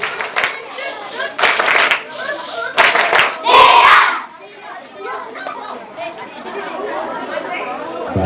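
Children in a classroom perform the 'tepuk diam' clapping routine, with several bursts of rhythmic group claps mixed with chatter, then quieter murmuring voices afterward.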